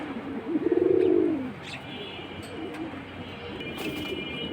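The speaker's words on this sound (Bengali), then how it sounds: "এই যে সবার পছন্দের রাজকীয় কবুতর চলে আসলো" A fancy high-flying pigeon at a pigeon sale gives one close, soft rolling coo, followed by a low background hubbub and a few faint chirps.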